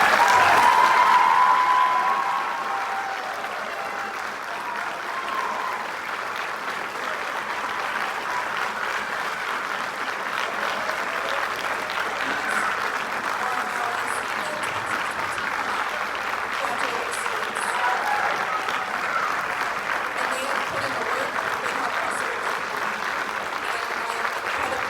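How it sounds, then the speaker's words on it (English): An audience applauds a student orchestra at the Barren County Orchestras spring concert: loud, sustained clapping that peaks at the start, then settles into a steady, even roar for the rest of the stretch. "let's give all of these students their round of applause"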